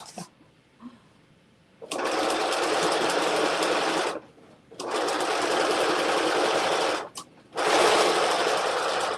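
A sewing machine sews pockets into a dress, running in three loud, steady bursts separated by brief pauses, with no one talking.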